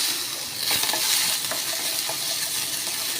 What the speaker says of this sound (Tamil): இதே பேனில் வெங்காயம் ஆட் பண்ணிக்கலாம்